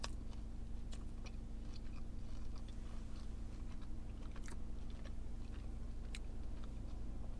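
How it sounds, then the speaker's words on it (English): Close-up biting and chewing of a fast food dessert treat topped with caramel popcorn, with crisp crunchy bites and steady mastication over a low background hum, no talking. "So I'm gonna take a bite from the side so I get a little bit of the popcorn and everything else."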